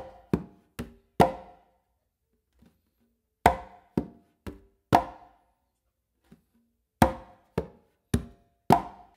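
Clave independence exercise on congas, played up close with no other sound: repeated groups of three crisp, resonant drum strokes, each group ending on a stronger ringing hit, broken by brief gaps with soft taps.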